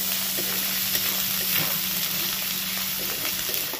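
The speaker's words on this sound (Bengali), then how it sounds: "এখানে বড় মতো একটা টমেটো আমি কুচি করে নিয়েছি। এবার এটাকে ভালো করে ভেজে নিতে হবে।" Chopped tomato frying in oil for a chicken curry, a steady close sizzle with soft stirring scrapes running throughout, no talking.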